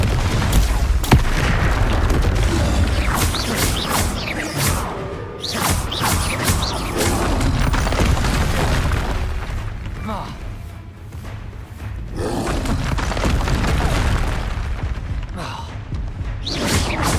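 Confringo fire spells blast in Hogwarts Legacy amid a busy magical fight, with repeated booms, thuds and whooshes over a continuous rumble and voices in the mix.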